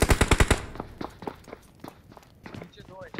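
Rapid automatic gunfire in the mobile battle royale game BGMI, a quick loud burst of about five shots at the start, followed by scattered footsteps and lighter in-game sounds while players talk over it.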